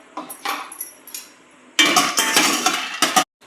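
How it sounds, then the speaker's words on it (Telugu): Peanuts being roasted and stirred in a metal kadai, with a spoon scraping and clinking against the pan in bursts, quieter at first then louder and denser, close up with no talking. "పల్లీలు వేయించుకోవాలండి"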